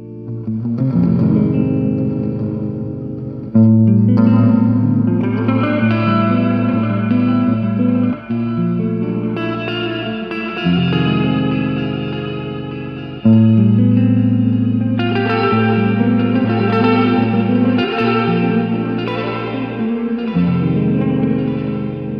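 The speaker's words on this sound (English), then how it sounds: "And then there's what's called an echo verb." Guitar chords and picked notes ring out through a JOYO Atmosphere reverb pedal's echo-verb setting, each phrase trailing into repeating, washy decay with no talking.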